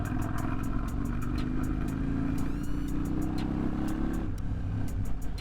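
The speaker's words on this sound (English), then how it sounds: "Really smooth, enjoyable bike to ride." A 2001 Yamaha Dragstar 250 cruiser motorcycle being ridden, its engine a steady droning hum that shifts pitch slightly as it runs, with intermittent light clicks and rattles over the continuous motor sound.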